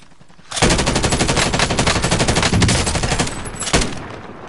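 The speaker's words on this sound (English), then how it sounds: "Tito's getting shot at." Rapid automatic gunfire in the video game Call of Duty Warzone, a loud, steady stream of close shots bursting in and running for several seconds before ending in one sharp final report.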